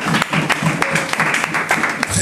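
A church congregation applauds with brisk, irregular clapping from many hands, fairly loud and close, with voices mixed in beneath.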